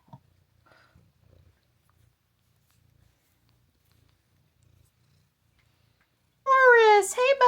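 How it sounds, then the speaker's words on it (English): A cat purrs very faintly through a near-silent stretch, then gives one loud, close meow with rising and falling pitch at the end. "Morris, hey buddy. Hi, I heard you meowing."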